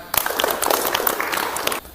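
Students in an automotive vocational classroom give a short burst of clapping, a dense patter of hands that lasts under two seconds and then stops abruptly.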